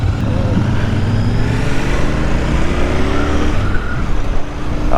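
2024 Royal Enfield Interceptor 650 motorcycle being ridden, a steady engine drone with shifting pitch and strong wind rush, continuous and loud throughout the short stretch.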